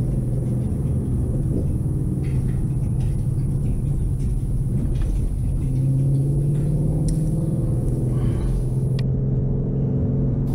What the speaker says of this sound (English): The transmission shifts are short and firm, and the car feels really planted to the ground